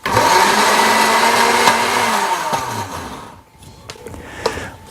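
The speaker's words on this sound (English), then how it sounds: "grind them up in a blender, not very thinly and only just for a few seconds" A blender grinds wild lettuce leaves in a loud, steady whir for about three seconds, then winds down and stops, leaving a few faint clicks and knocks.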